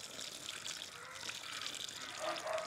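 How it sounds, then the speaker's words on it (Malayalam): Water pours steadily and softly onto coir fibre filling a grow bag, a gentle continuous gush that grows slightly louder toward the end. "ഇപ്പോ ഇത് നമുക്ക് നന്നായിട്ട് നനച്ചു കൊടുക്കാം."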